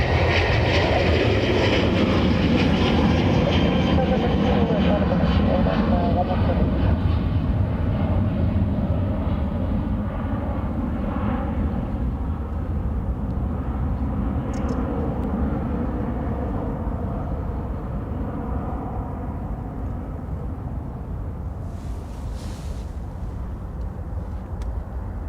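A KLM airliner departing Dublin Airport, loud engine roar at first that slowly fades as it pulls away into the distance, a long, smooth, continuous sound with no talking.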